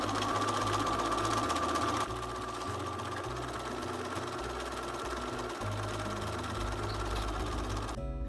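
A sewing machine stitches patchwork fabric pieces directly to batting at a quarter-inch seam for a throw pillow, running at a steady, continuous mechanical whir with a brief shift in pace partway through.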